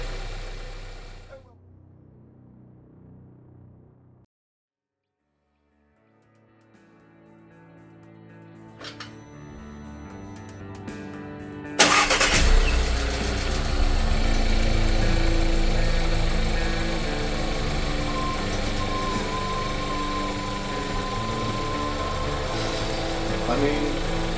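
A VW Polo engine, freshly swapped into the car, fires up and settles into a steady idle, a busy mechanical hum that continues close by after a quieter stretch with a few clicks.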